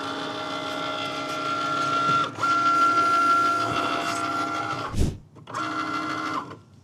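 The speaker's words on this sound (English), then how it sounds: "press the flashing Cricut button and watch it cut" A Cricut cutting machine runs with a steady motorized hum and whirring tones, shifting pitch as the blade carriage moves. It stops briefly with a soft clunk, then whirs again, close up and with no talking.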